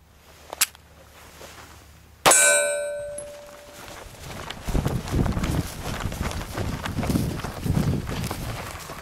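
A pocket 9mm pistol fires one sharp, loud shot that rings off a steel target, preceded by a fainter click. Shuffling and movement noise follow at an outdoor range.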